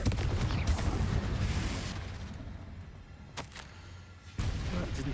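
A Confringo blast spell in the Hogwarts Legacy video game, heard as sharp explosive bursts and booms with short gaps, loud and close with little talk.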